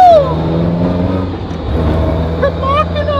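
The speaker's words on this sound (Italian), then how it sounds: "Il ronzio che si sente è il differenziale autobloccante Cusco" Inside a Toyota AE86 Trueno on the move, the Cusco two-way limited-slip differential gives a steady low drone beneath road and cabin noise, continuous and moderately loud.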